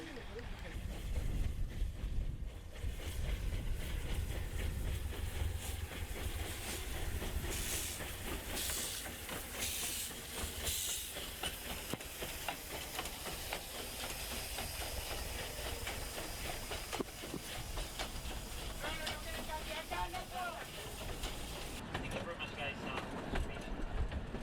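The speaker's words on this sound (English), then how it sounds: "This locomotive that's coming in is one of 2 steam trains that they have." A steam locomotive of the Tren del Fin del Mundo rumbles in with steady hissing and rhythmic chuffing, loud and continuous, with people talking over the mechanical noise.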